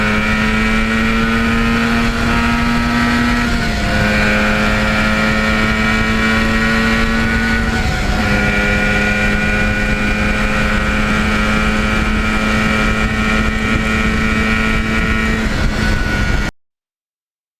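A 1977 Yamaha RD400 motorcycle pulls hard at wide open throttle, its engine note rising through the gears with clear shift drops around every four seconds, loud and close, alone with no talk.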